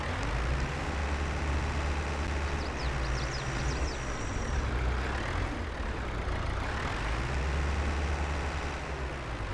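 Tractor engine in the Farming Simulator 22 video game, a continuous low rumbling drone that rises and falls in pitch as it works in a field with bales, with brief high squeaks partway through.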